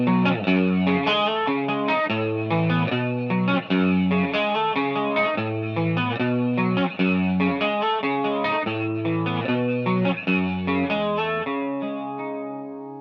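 An electric guitar plays the four-chord main riff of a song. Arpeggiated notes repeat in a steady rhythm through chorus and effects, continuous and fairly loud, with no talking.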